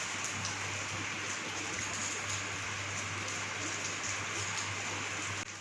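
Rain falling steadily on a surface, a dense even hiss with soft patter and a faint low hum beneath, continuous and fairly quiet.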